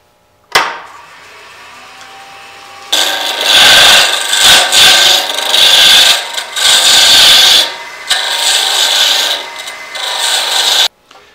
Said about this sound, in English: I'm going to take my 16 TPI thread chaser and just practice.